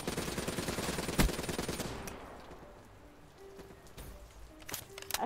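Video game gunfire crackles in a rapid, loud burst of automatic shots, then thins out into scattered single cracks and quieter background noise.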